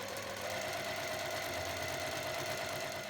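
A sewing machine stitching fabric for a lined shoulder bag, giving a faint, steady mechanical whir with a rapid regular patter and no speech.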